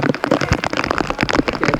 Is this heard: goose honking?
no